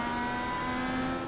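IndyCar race car engine in a Platinum IndyCar Series sim race at the Michigan 150, holding a steady, loud high-pitched whine with a constant tone and no voices over it.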